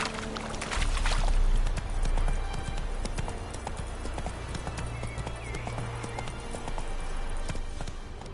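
Horse hooves gallop in The Witcher III video game, a steady rapid clip-clop at moderate distance under wind-like ambience, heaviest in the first two seconds.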